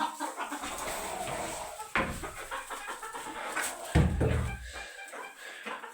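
Bantam hens in a coop being cleaned give sharp, agitated squawks at close range, in several uneven bursts mixed with rustling and other handling noise.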